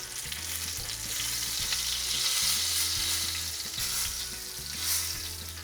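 Breaded tofu wings fry in a hot pan on the stove, a loud continuous sizzle and crackle of oil close up with occasional stirring scrapes and no voices.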